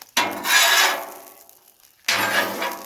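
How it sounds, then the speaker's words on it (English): A metal scraper dragged across the surface of a 36-inch Blackstone griddle during a smash burger cook, two long harsh scraping strokes close by with a short pause between them and no talking. "scrape this off real quick"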